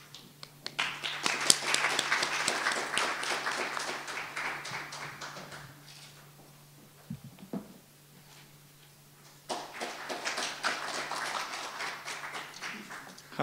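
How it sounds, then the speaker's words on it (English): Scattered audience applause at an international science and technology policy symposium opening, quiet and somewhat distant, in two bursts separated by a lull with a low hum underneath. "Please give him a big round of applause."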